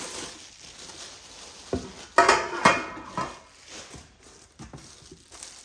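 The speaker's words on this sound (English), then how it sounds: "Big frying pan." Metal pans, lids and utensils from a new 18-piece cookware set clatter and clink as they are unboxed, including a big frying pan, with a few sharp knocks among quieter rattling, close by and without talking.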